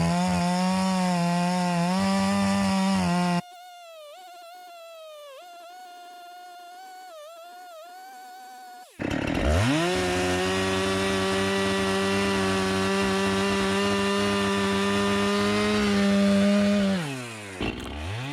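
A Husqvarna 550XP or 390XP chainsaw cuts through a tree, with a loud steady buzz, a quieter idling stretch in the middle, then a strong revved cut again before easing off.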